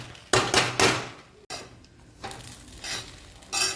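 Bread pieces sizzle and crackle while frying in a pan over low gas, mixed with clinks and scraping as they are stirred.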